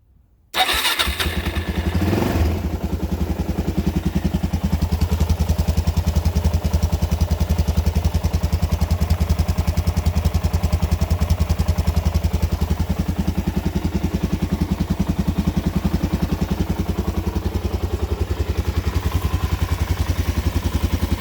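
A Suzuki DRZ400 motorcycle engine, a stock engine after a refresh, cranks over and catches, then settles into a steady, loud, close-up idle with a dense, even mechanical rumble and clatter that runs for about twenty seconds.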